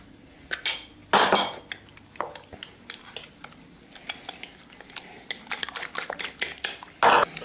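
Sugar being beaten into peanut butter cookie dough in a bowl, with irregular clinks and scrapes of a spoon against the bowl and a few sharper knocks, fairly close and without talk.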